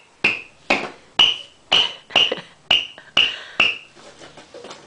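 A child bangs a toy hammer in a steady run of eight sharp, bright taps about half a second apart, close by, followed by a few fainter knocks.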